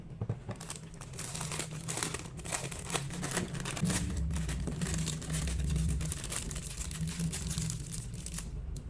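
Plastic piping bag crinkling as it is filled with whipped cream, close and loud with dense irregular rustles and crackles throughout and a soft low thumping underneath.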